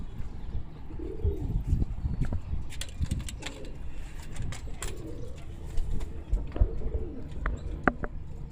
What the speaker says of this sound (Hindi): बहुत प्यारा कबूतर है